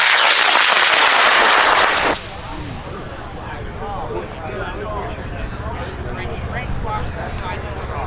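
A Bullet Bobby XXL high power rocket on an H-135 motor roars loudly at liftoff, a dense rushing burn for about two seconds that gives way to fading rumble, crowd noise and an announcer at a large launch event in Potter, New York.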